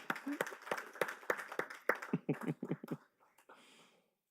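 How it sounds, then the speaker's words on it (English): A small audience at a Modesto Board of Education meeting claps for the new board president, distinct individual claps in a brisk, uneven rhythm for about three seconds, then fading out to near silence. "Let's give him a round of applause"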